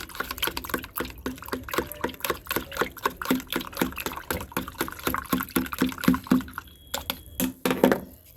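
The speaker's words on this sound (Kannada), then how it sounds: "ಈ ರೀತಿ ಸ್ಪ್ರೇ ಬಾಟ್ಲಿಗೆ ತುಂಬಿಸ್ಕೊತಾ ಇದ್ದೀನಿ" Neem liquid being mixed into about half a litre of water and poured into a spray bottle, heard as steady close sloshing and splashing with rhythmic pouring pulses, continuing throughout with no talk.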